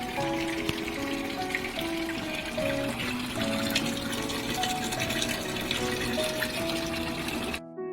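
Water runs steadily from the tap of a newly installed gas water heater, a continuous splashing hiss that stays constant for about eight seconds and then stops abruptly, with faint tonal background music underneath.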